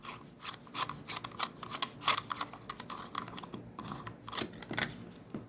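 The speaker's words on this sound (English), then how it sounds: "Let's screw off the cap." Cap being unscrewed from a Daiwa fishing reel that has not been lubricated in a while, heard as a close run of small dry clicks, ticks and scraping rubs in an uneven rhythm.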